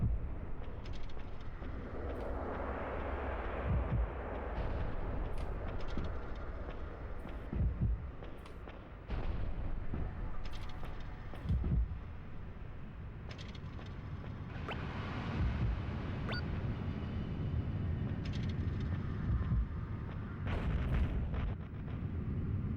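Area-of-effect explosions in the video game Baroque boom at intervals as deep, muffled blasts, mixed with other low rumbling game sounds and sharp hits.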